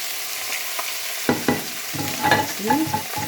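Onions and garlic frying in a pan for an artichoke and pea tajine, with a steady close sizzle broken by scraping stirs and clatter toward the end.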